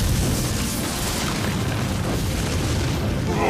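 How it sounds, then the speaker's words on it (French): A loud, sustained rumbling blast roars continuously, a heavy explosive whoosh of a cartoon magma explosion in Redakai, filling the whole moment with no voices. "Explosion de magma!"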